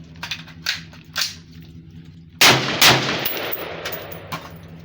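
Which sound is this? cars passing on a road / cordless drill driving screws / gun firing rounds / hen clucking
gun firing rounds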